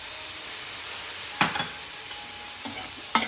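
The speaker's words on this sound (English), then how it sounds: "Let's fry this a little bit, and now we'll add the tomato." Cumin seeds with red chili powder fry in a pan with a soft, continuous sizzle and hiss, broken by a few sharp scraping stirs of a utensil.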